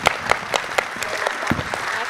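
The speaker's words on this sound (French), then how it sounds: "Je vous propose qu'on applaudisse très chaleureusement nos deux invités." An audience claps warmly for two guests at a French intercommunal citizenship meeting, a steady patter of many hands with regular brighter bursts, moderately near and continuous throughout.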